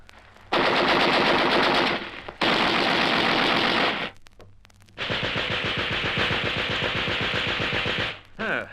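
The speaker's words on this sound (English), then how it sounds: "Send a couple of bursts into his fuselage, Algy." Radio-drama machine gun fire from a biplane, heard as three loud, sustained rapid-fire bursts separated by short pauses, close and dominant.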